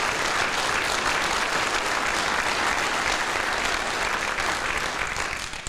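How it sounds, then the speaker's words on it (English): Loud, dense audience applause at an honors and retirement ceremony, a continuous roar of many clapping hands that holds steady before easing slightly at the end. "So let's again give these two great individuals a round of applause."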